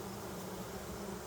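Faint, steady buzzing hum of honeybees around a beehive frame during a beekeeping session, low and continuous with no talk.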